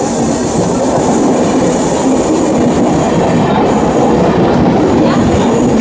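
The New Delhi–Howrah Duronto Express passes close by, a loud continuous rumble of wheels on rails with rhythmic clatter and occasional high squeals, with no voices.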